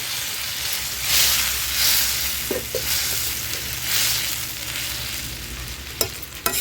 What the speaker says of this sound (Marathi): पाणी ॲड केल्यानंतर व्यवस्थित मिक्स करून घ्यायची आहे